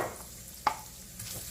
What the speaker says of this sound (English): So we allow the carrots to saute.